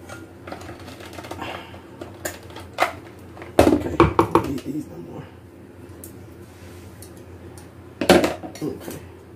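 Two metal cake pans clatter and clank against each other and a hard surface in a few sharp bursts, close by, with quieter handling noise between.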